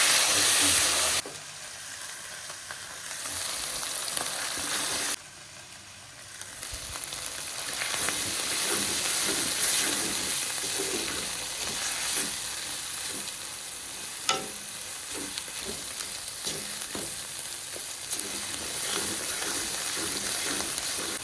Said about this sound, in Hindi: सरसों के साग को तड़का लगा लेंगे